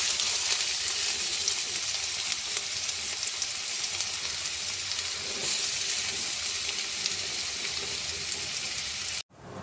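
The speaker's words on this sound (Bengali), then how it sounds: "তেলটা গরমও হয়ে গেছে, এবার আমি পেঁয়াজ কুচিটা ছেড়ে দেবো।" Chopped onion fries in hot mustard oil, a loud, dense, steady hiss and crackle close by that runs without a break until it cuts off abruptly at the very end.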